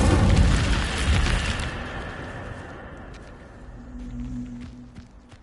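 Incendio fire spell cast in the Hogwarts Legacy video game: a loud whooshing burst of flame that roars at first, then fades into a lower rumble with faint lingering crackles.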